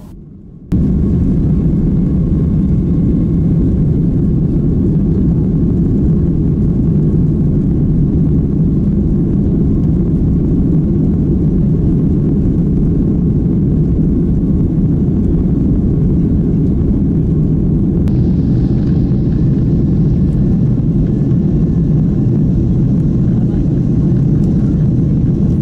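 Steady loud airplane engine drone inside a cabin during flight, a broad constant low roar holding throughout with no break and a faint hiss rising slightly near the end.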